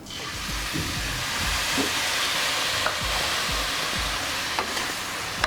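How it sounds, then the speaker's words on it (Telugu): Milk is poured into grated coconut and sugar in a pan and stirred over the heat: a steady sizzling hiss with repeated close scraping strokes of a spoon against the pan. "అలానే 1/2 కప్పు పాలు కూడా వేసుకుందాం."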